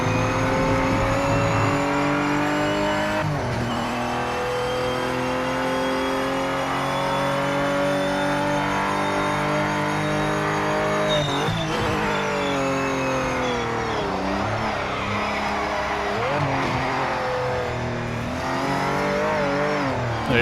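A Porsche race car in the Project Motor Racing video game, its engine droning loud and steady with shifting revs, a few gear changes and brief dips as the car slides, continuous throughout with no talking.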